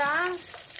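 Catfish pieces being fried in oil, a close sizzle that opens with a brief tonal squeal and then settles into a steady crackling hiss.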